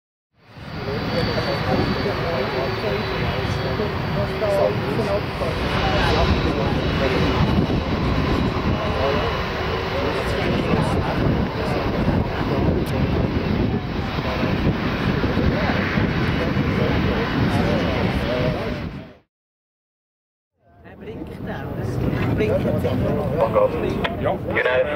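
Singapore Airlines Airbus A380-841 taking off at Zurich Airport, a loud, steady, close jet engine roar that stays dense for about nineteen seconds, then breaks briefly before the roar returns. Airport radio voices can be heard.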